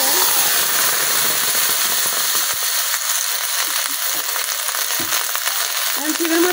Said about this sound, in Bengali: এখন এই কড়াইয়ের মধ্যে সিম গুলো দিয়ে দেন।